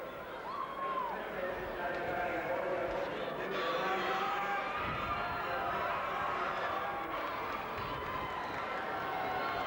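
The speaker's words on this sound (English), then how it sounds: "And the cheer goes for the Rovers." A crowd cheers for the Rovers at a 1986 Clonmore county final, a broad, distant roar of voices that holds steady throughout, with a commentator talking over it.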